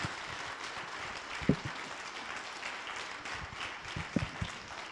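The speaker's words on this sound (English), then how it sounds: "A round of applause" Applause from an audience at a conference about re-imagining Africa, a faint, distant wash of clapping with a couple of louder thumps or knocks standing out, no talk over it.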